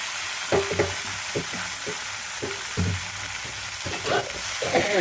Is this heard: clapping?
no